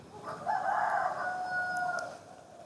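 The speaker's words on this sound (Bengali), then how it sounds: "এই যে মুরগিগুলা সব আমাকে দেখে আসছে, খাবার খুঁজছে" A desi rooster on a poultry farm crows once, a drawn-out nearby call lasting about two seconds over quiet background.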